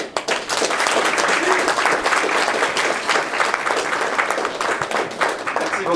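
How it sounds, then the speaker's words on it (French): An audience at a political investiture in Montreal claps steadily for several seconds, a dense, lively patter of many hands with a few sharper individual claps standing out. "je voudrais qu'on l'applaudisse,"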